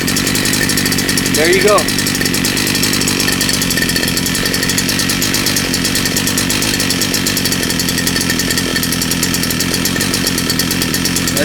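A small two-stroke bushcutter engine drones loudly and continuously nearby, with a brief voice speaking over it early on.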